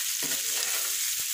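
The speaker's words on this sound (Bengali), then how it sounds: "আরও আমি রান্না করছি করলা ভাজি" Sliced bitter gourd (karela) fries in a pan on the stove with a continuous loud sizzle and crackle, broken by a couple of soft stirring scrapes.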